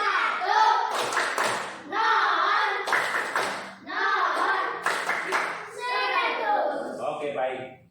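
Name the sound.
group clapping the 'tepuk 100' clap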